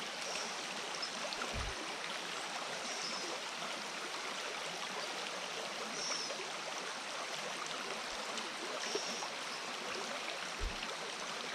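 A small creek flows into a trout stream, giving a steady, even rush of running water that fills the whole scene, with a few faint low knocks and no voices.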